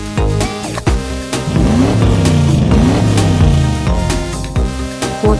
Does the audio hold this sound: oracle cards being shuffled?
no